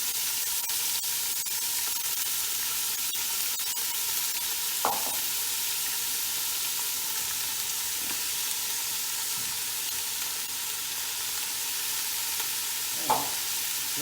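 Sausage and celery fry steadily on high heat in a pan, a dense continuous sizzle with occasional soft scrapes and stirring clicks, close and without talk.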